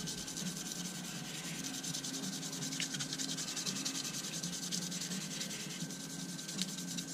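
Fine 1800-grit sandpaper rubs against a mod in fast, continuous back-and-forth strokes, a close, even scratchy rasp with a steady rhythm and no voices.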